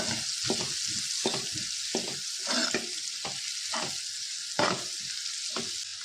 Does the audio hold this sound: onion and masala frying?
yes